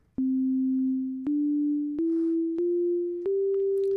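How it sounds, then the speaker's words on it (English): A pure sine-wave carrier from modular FM synthesis, at a frequency ratio of 1, sounds as a steady clean tone that steps upward in pitch five times, each step starting with a small click. "Just a sine wave right now."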